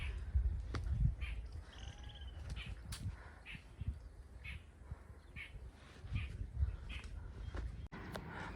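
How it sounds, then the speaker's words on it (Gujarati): Crows caw in repeated calls at a quiet hilltop Shiva temple near Virpur, with other birds chirping faintly around them, the caws moderately close and spaced out over a soft outdoor background. "અહીં તમને પક્ષીઓનો અવાજ પણ સંભળાશે."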